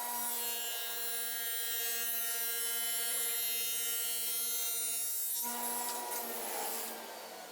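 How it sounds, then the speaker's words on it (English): A table saw fitted with a dado blade cuts a rabbet along the edge of a board, producing a loud, steady, high motor whine whose tone shifts abruptly as the cut finishes. "So we just cut a rabbet on the edge of this board."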